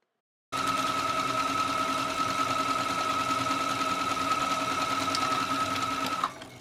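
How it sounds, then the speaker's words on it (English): A sewing machine runs steadily at close range while stitching a seam on fabric for a shirred crop top, giving a continuous even whir for about six seconds before stopping. "Now it's time to join the seam. I'm simply just going to sew it close."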